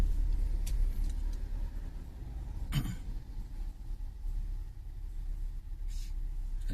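Morning road traffic on a busy street near a bridge, with many cars rumbling past in a steady low roar, one closer vehicle whooshing by midway, heard alone without voices.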